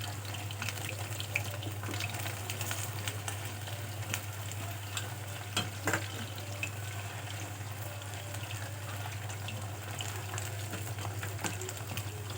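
Chicken 65 pieces fry in hot oil with a steady, dense crackle and bubbling hiss throughout, a low constant hum underneath and a few sharper pops along the way.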